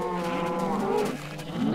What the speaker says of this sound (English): Cows and the sheep keep bloody getting in here.